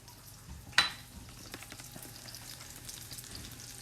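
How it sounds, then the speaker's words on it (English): Flour-thickened chicken piccata sauce stirred in a hot pan, a steady soft sizzle with a sharp clink of the utensil against the pan near the start, no talking. "I'm going to stir it around, and you can see the sauce start to thicken immediately just by stirring it"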